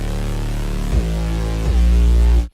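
Hyperpop beat bass made of a sub layer plus a high-passed synth layer: a loud sustained low tone that glides down in pitch twice, then cuts off.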